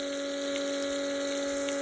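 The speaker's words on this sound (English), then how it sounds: "The pump's a little annoying" A small water pump runs steadily while a garden is watered, giving a continuous mechanical whine with two strong tones and a faint hiss, close and constant throughout with no talk.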